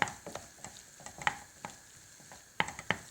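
Bolognese sauce cooking over medium heat, with a faint steady sizzle beneath a handful of sharp spoon-against-pan knocks as it is stirred, fairly quiet and with no talking.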